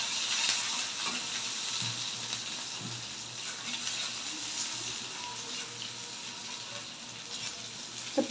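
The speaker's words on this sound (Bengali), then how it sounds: "আর এখানে এই যে পেঁয়াজ একটু ভেজে নিচ্ছি" Onions frying in a pan for a Bengali potato mash meal give a steady, soft sizzle that runs throughout at moderate level, with faint stirring scrapes and no talking.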